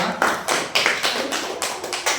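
Hands clapping in a classroom, a run of sharp claps in a loose uneven rhythm, close and fairly loud with no talk over them.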